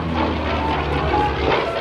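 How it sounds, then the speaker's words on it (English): An F4U Corsair propeller warplane owned by the Collings Foundation roars past at an air show, a steady loud engine drone with dense low rumble and no voices. "As Dan McCue from York, Maine, flies this airplane owned by the Collings Foundation."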